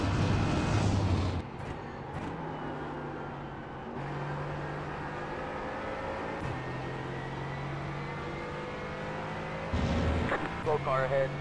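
GT4 race cars lap Catalunya in the iRacing game, a steady engine drone holding pitch with gear shifts and brief louder bursts, while a person talks over it throughout.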